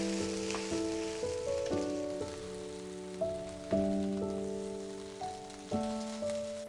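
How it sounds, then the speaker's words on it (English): Carrots, thinly sliced garlic and the white parts of green onion sauté for an udon stir fry, giving a steady soft sizzle beneath louder music that carries throughout. "Saute for another couple of minutes."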